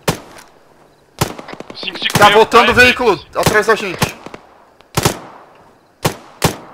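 Bursts of rifle fire from the military video game Arma 3 crack out in short sharp shots at intervals, loud and close, with several players talking over the gunfire.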